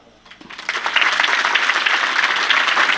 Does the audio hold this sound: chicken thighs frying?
no